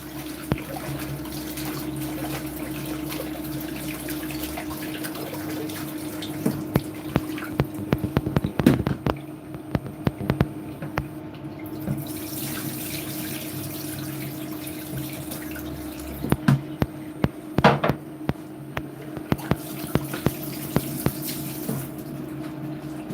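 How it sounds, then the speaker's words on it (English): Kale leaves washed in salted water in a kitchen sink: steady running and splashing water fills the whole stretch, with louder bursts of sloshing and handling around the middle and again near the end. "We put salt in the water and wash it. Wash off all those dirty leaves."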